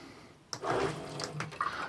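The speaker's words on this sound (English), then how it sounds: "water pump that pumps it out of that 7-gallon water thing" A 12-volt water pump draws water from a 7-gallon container into a kitchen sink in winter. After a brief quiet start, water suddenly gushes and splashes steadily up close for over a second, with no talking.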